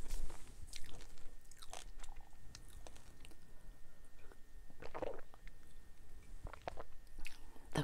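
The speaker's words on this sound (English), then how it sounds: "Some squishy marshmallows next." Close-up, soft wet chewing of squishy, spongy marshmallows, with irregular squelches and small crunchy bites repeating throughout and no talk.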